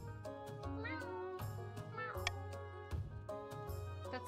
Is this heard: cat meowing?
yes